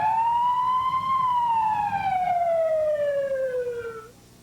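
A single loud emergency vehicle siren wail sweeps up and then slowly falls in pitch, steady and prominent over a low road rumble, fading out at the end.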